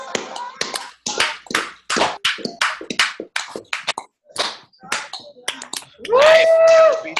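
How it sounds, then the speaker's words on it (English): A single person claps, a run of sharp, separate hand claps in an uneven rhythm, close and loud, ending with a brief whoop or sung tone. "Clap your hands."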